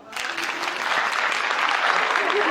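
A stand-up comedy audience breaks into applause, the clapping swelling quickly and holding steady, with faint voices mixed in beneath it.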